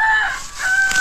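A rooster crowing close by in a backyard tomato garden, one loud, drawn-out crow broken into two sustained parts, with no talking.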